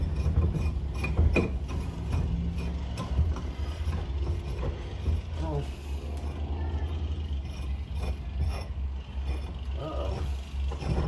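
Ball joint press tool from a kit pressing a ball joint into a control arm on a Pontiac, with a steady mechanical grinding and ratcheting strain and occasional creaks, close by, under intermittent talk.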